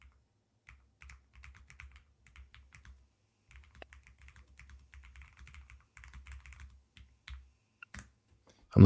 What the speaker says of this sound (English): So I go to 6degree and I just type in the box down here.